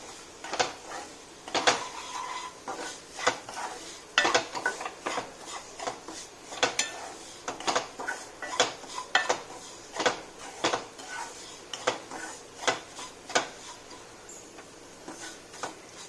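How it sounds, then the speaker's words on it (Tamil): Semolina is stirred and roasted in ghee for rava kesari, a close series of irregular scraping and tapping knocks of a spoon against the pan, repeating every second or so without speech. "ரவையை போட்டு நல்லா வறுக்க போகிறோங்க"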